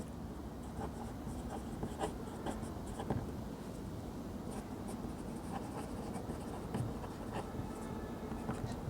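Steady scratching of writing on a board during a maths lesson, chalk or marker strokes tapping and scraping in short bursts across the whole stretch, fairly close and continuous, with no talk over it.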